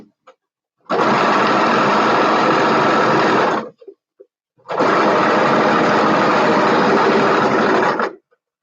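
A sewing machine tack-stitches white denim in two long, loud, steady bursts of rapid mechanical whirring, each lasting about three seconds and separated by a short pause with faint clicks.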